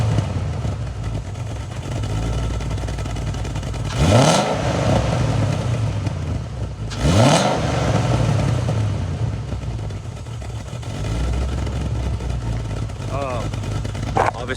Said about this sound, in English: I'm gonna give it a couple revs.